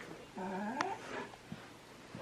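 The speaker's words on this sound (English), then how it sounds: "Actually, don't know what they're barking at yet." A dog indoors gives a short whimpering, yelping bark, faint and fairly close, then a couple of soft thuds in a quiet room.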